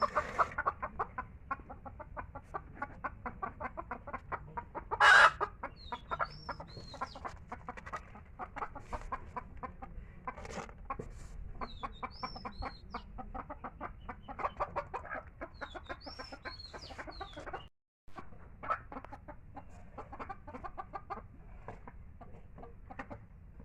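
Chickens cluck steadily with occasional louder squawks and bird chirps, close by in a farmyard, no speech.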